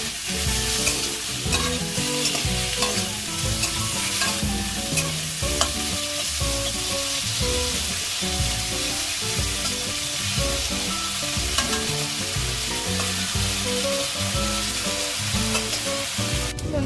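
Cut potatoes fry in a pan with a loud, continuous sizzle, punctuated by frequent stirring scrapes and clinks of a utensil against the pan throughout.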